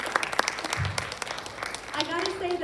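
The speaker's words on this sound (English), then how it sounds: "Let's give them a round of applause for Olivia." An audience in a civic center gives scattered applause for a presenter, with sharp individual claps over a thin wash of clapping, and a voice starts talking near the end.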